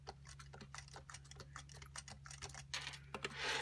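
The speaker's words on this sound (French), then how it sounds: "on va écrire avec notre clavier Perkins" Typing on a Perkins braille keyboard, a quick run of crisp mechanical key clacks in an irregular rhythm, close and fairly quiet, over a low steady hum.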